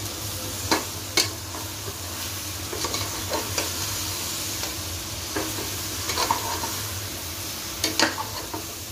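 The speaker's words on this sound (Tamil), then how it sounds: "இப்போது பலாக்காயை சேர்த்து நல்லா வதக்கி கொடுத்துட்டேன்" Raw tender jackfruit pieces being sautéed in a pan for biryani, a steady low sizzle broken by scattered clinks and scrapes of a spoon stirring against the metal, close and moderate in level, no voices.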